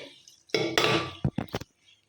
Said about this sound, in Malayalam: കുറച്ച് സോപ്പും പൊടി ഇട്ടിട്ട് ഒന്ന് തേച്ചാൽ മതി കേട്ടോ